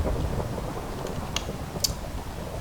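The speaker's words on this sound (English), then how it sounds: "Get rid of the thunderstorm here." Thunderstorm ambience from the Minecraft video game: a steady rumble of rain and low thunder with a few faint crackling ticks over it, with no talk.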